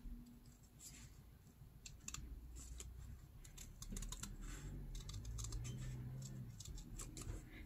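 Scissors snipping out small paper parts for specimen slides, quick crisp cuts in an irregular string, close and fairly quiet.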